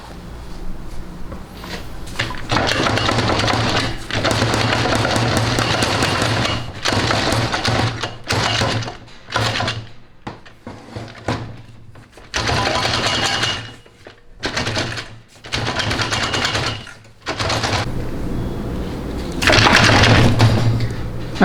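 A stuck part inside a high-performance 4L60E transmission case is worked back and forth, giving uneven bursts of metallic rattling and scraping broken by short pauses.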